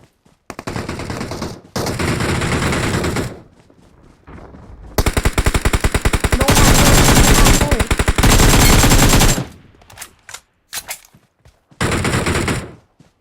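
Loud automatic gunfire from the PUBG video game rips out in long sustained bursts, broken by short pauses and ending in a few quick, clipped volleys.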